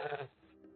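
An Altai fat-tailed sheep bleats once, loud and close, a short harmonic cry that fades into a quieter wavering tail, with no talk.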